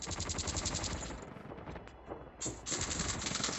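Gunfire in the video game Call of Duty: dense, rapid automatic bursts rattle continuously and loudly, break briefly into scattered shots, then resume as sustained fire. No one speaks.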